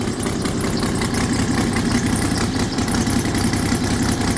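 A Saito FG90R3 radial model engine, warmed up after a valve job and break-in, idles steadily and loudly at close range with an even, rapid throbbing firing rhythm.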